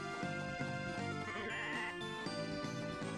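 A sheep in the farming game Story of Seasons: Trio of Towns bleats with a wavering, nasal call over steady game music, loud and close for a few seconds.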